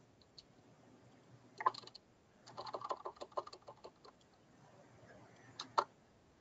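Someone types on a computer keyboard in quiet bursts of clicking keystrokes, a dense run of taps in the middle with a few isolated louder clicks before and after, close and fairly faint.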